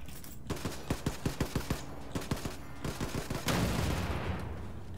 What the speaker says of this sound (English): I'm switching over to the SMG nail gun.